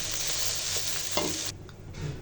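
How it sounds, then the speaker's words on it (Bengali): Rice is stirred into egg vegetable fried rice in a hot pan, a close, steady sizzle with spatula scraping that drops off abruptly near the end. "রাইসগুলো দিয়ে মিশিয়ে নিব।"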